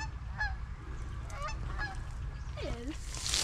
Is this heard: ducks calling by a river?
yes